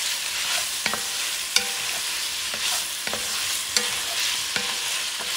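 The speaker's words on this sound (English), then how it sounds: "Move it around for a few seconds and start mixing everything around." Chopped garlic sizzles in a frying pan for Creole-style jambalaya while a utensil stirs it, a continuous hiss punctuated by several clear clinks and scrapes at irregular intervals.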